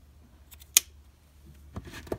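Scissors trim loose threads close on a handmade friendship bracelet, giving one sharp snip followed by a couple of fainter cuts in a quiet room.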